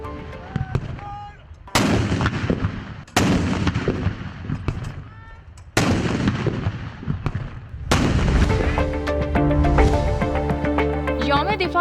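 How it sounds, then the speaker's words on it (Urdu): A 21-gun cannon salute for Defence Day in Pakistan, with heavy booming reports spaced a second or two apart, each rolling off into a long echo, while a band plays after the last shots. "21 توپوں کی سلامی سے ہوا۔"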